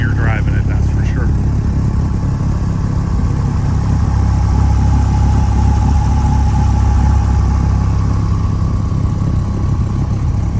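A 1997 Dodge Viper GTS engine idles steadily after a cold start, a deep, even rumble held loud and close for the whole stretch, with a brief higher whine near the start.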